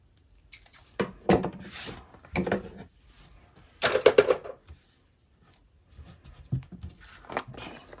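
Scissors trim the edge of a paper page in an eclectic textured journal, a few short close snipping and rustling bursts separated by quiet pauses.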